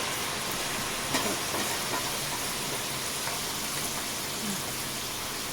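Kerala-style jackfruit chips frying in hot oil in a home kitchen, a steady broadband sizzle and hiss throughout, moderately loud and continuous with faint crackles.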